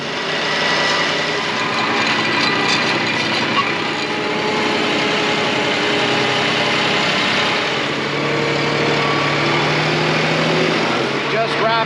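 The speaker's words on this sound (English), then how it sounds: "My first time really working with this loader, so I'm still learning. She's got a lot of power" A loader's engine drones steadily and loudly up close while it scrapes a pasture, a continuous mechanical hum with a slight rising tone partway through.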